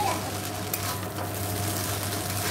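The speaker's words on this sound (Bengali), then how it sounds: "আমি দুটো খুন্তি দিয়ে নাড়াচ্ছি, কারণ এক হাতে নাড়ানো যাচ্ছে না।" Chow mein tossed in a pan with two spatulas, a steady close sizzle of frying noodles with soft scraping strokes throughout, no talking.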